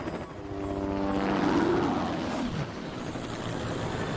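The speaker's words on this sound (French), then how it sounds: "Super hélicoptère s'occupe de tout." A cartoon helicopter flies past with a rising and falling whirring drone, swelling near the middle and then fading, under light music.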